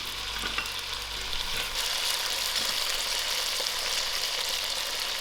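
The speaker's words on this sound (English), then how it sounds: "To the potatoes, I add in my salt and lower the heat so it can fry out gently." Salted potatoes frying gently in a pot over lowered heat for a spicy potato soup: a soft, even sizzle with faint crackles, steady and close, with no voices.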